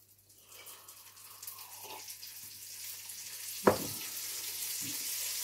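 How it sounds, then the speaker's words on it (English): Butter melting in a hot frying pan for an omelette gives a soft, steady sizzle that slowly builds in loudness, with one sharp clink partway through. "More butter. It's going to melt quicker this time."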